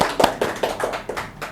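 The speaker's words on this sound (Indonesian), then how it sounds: "Mungkin beri aplaus dulu untuk Pak Agung." Light, scattered clapping from a few people in a small podcast studio greets guest Pak Agung, several brief soft claps spaced out over about a second and a half.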